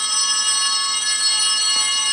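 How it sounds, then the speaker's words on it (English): Altar bells shaken by an altar server ring out in a continuous bright, shimmering jingle at close range, loud and sustained without pause. "So we'll ring the bells"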